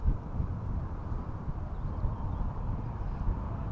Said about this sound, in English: Wind's a bit strong now.